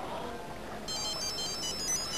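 A mobile phone rings with an incoming call, a faint electronic ringtone melody starting partway through over low room noise during a drinking gathering.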